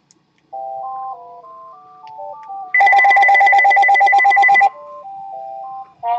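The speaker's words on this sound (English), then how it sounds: "Damn, phone again." A telephone plays a melodic electronic ringtone, then a loud, rapid trilling ring sounds for about two seconds before the tune returns. It is clear and close, with no talking over it.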